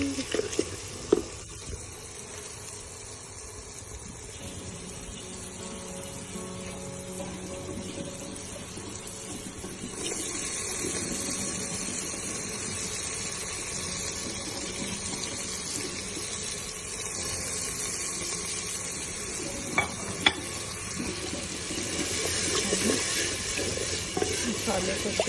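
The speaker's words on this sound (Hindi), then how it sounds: "मसाले को अच्छे से भून लेंगे" Spices frying in a pan with salt, turmeric, cumin and dried chilli, a splash of water added, giving a steady soft sizzle and hiss with occasional stirring scrapes, while someone talks over it.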